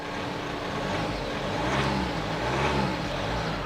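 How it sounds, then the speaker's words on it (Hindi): A Jeep Meridian Overland diesel SUV engine idles and revs lightly with its door open, a steady low rumble heard up close and fairly loud, with no talking. "आप नॉइस सुनेंगे, थोड़ा सा भी रेव करूंगा"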